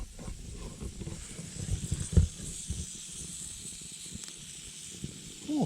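A jackrabbit hind quarter sizzles on campfire coals outdoors, a faint, steady hiss with scattered soft crackles and a few low knocks nearby.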